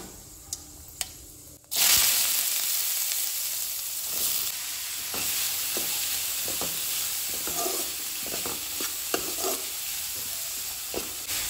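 Cumin seeds and chopped onion hit hot oil for a Goan oyster sukha, bursting into a loud, steady sizzle after a quiet start, with intermittent scraping and stirring clicks from a spoon in the pan throughout.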